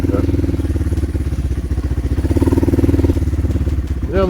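A motorcycle rides along a country road through nature, its engine a steady, loud, close chugging drone throughout with no talking.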